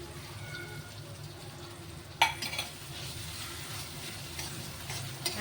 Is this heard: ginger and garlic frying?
yes